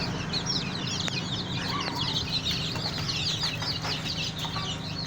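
Native Nigerian chickens cluck and chatter together in a pen, many overlapping calls close by over a low steady background hum.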